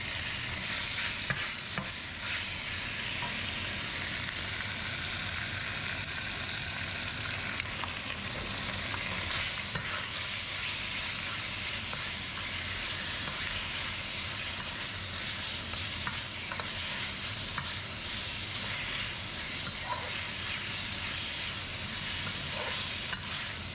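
Lamb pieces browning in a wok, one batch of several, with a steady dense sizzle and frying hiss running the whole time alongside occasional stirring scrapes, close and loud, no voices.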